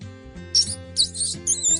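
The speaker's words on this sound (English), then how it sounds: "A mouse makes that sound." A mouse squeaks in three short, high, bright bursts, with faint music playing underneath.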